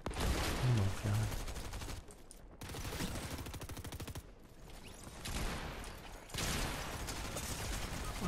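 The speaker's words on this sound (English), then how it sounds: "I shot him twice with a heavy blue shotgun." Gunfire in the video game Fortnite, including a heavy shotgun: rapid bursts of loud shots in dense clusters, broken by short gaps, with mechanical clicking between volleys.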